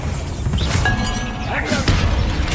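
A Bombarda spell in the video game Hogwarts Legacy lands as a crashing blast with thuds and shattering debris. A whooshing magical streak and clattering follow, all loud and close against a rumbling game background.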